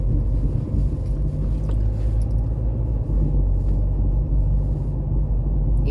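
Inside a moving car on the road, a steady low engine and road rumble drones throughout, close and continuous with no talk.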